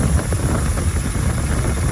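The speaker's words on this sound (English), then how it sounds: "we're idling good right now" A 1962 Chevrolet Impala SS 409 with dual quad carburetors idles steadily, a low continuous rumble heard up close and fairly loud, with no talking.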